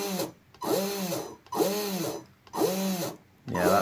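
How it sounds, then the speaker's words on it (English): A Traxxas motor on an RC car, driven through an ESC, whines in four rising and falling bursts that are separated by short gaps, close and fairly loud. "that's running a Traxxas motor at the minute"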